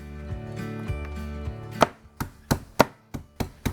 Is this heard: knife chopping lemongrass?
yes